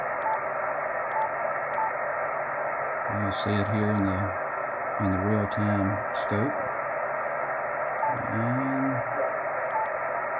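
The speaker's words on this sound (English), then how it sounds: "And you'll hear how the static comes back." Steady broadband hiss of static from a Yaesu FTdx-1200 amateur radio receiver with digital noise reduction switched off, continuous and fairly loud, with a voice talking over it in short bursts.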